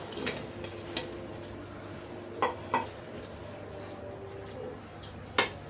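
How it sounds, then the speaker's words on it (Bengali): A spoon stirs matar paneer pulao with peas and paneer in a pot, making soft scraping with a few sharp metallic clinks scattered irregularly over a quiet, continuous background. "10 মিনিট হয়ে গেছে, আমি একটু আবার একটু নেড়ে দিচ্ছি।"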